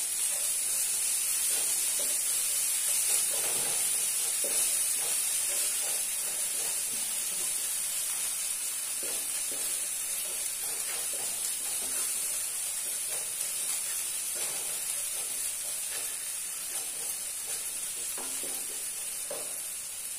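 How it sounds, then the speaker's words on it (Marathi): Coriander sautés in a pan for egg curry, giving a steady bright sizzle with occasional soft scrapes of stirring throughout, no voices. "यामध्ये कोथिंबीर परतून देणार आहे, त्यामुळे करीला खूप छान चव येते"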